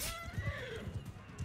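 A horse in the video game Mount & Blade II: Bannerlord lets out a loud, close whinny over the quick thud of hooves, all within a brief burst.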